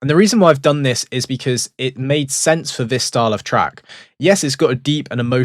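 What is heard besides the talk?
None of the usual background noises is heard.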